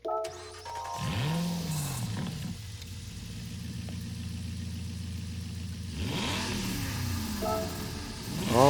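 A 2015 Aston Martin V8 Vantage S in Gran Turismo 7 cranks and fires up, its V8 flaring with a quick rev before settling into a steady idle, then blipping the throttle again near the end.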